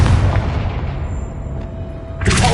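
The Confringo fire spell from Hogwarts Legacy lands as a loud, deep boom, then a long rumbling decay that fades over two seconds before another sharp burst of noise at the end.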